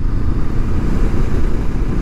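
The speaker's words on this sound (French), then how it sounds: "au niveau de la sonorité, le pot d'échappement ça va" Low, steady exhaust rumble from a Honda CL500 Scrambler motorcycle, close and loud, the engine holding a constant note for a couple of seconds with nothing else heard.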